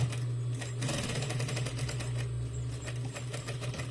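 Sewing machine running steadily as it stitches a seam on women's trousers, a continuous close mechanical hum and rapid needle chatter with no pauses.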